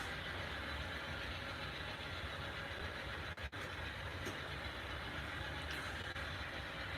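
A model stack train on the BNSF Plains Division layout runs upgrade out of sight, giving a steady, even rumble that holds throughout, with one brief dip near the middle.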